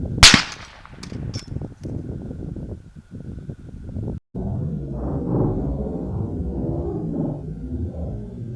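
A 300 Win Mag rifle fires once at an alternator outdoors, a sharp loud crack at the start followed by a brief echoing tail, then quieter rustling and wind-like background.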